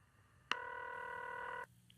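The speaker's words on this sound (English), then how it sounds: "It's ringing." A telephone rings once after a number is dialed: a single clean electronic ring tone lasting about a second, near and clear against a quiet background.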